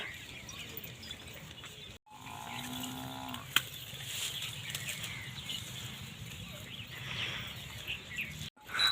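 A single low moo from cattle at a farm sounds briefly at moderate distance, set against quiet rural ambience with faint bird calls and a sharp knock.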